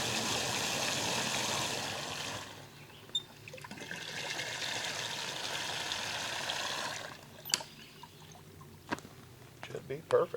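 About 5 gallons of water rush steadily into a FimCo 15-gallon agricultural sprayer tank for several seconds, pause, then pour again before trailing off into scattered plastic clunks and handling noises.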